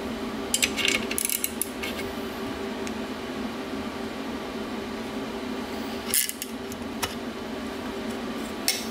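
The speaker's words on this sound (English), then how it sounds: "So toss this in the vise and get our bead roll on." Bead roller forming sheet metal for a Honda K24 Cefiro build, a steady mechanical rolling grind with occasional metallic clinks and rattles, moderately close and continuous, with no talking.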